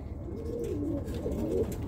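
Birmingham Roller pigeons from breeding pairs coo softly in a loft, with low rolling calls over a steady hum of background noise, fairly faint and without talk.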